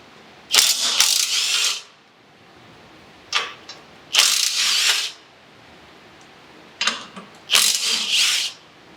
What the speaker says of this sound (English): So let's go ahead and get these bolts out of the way.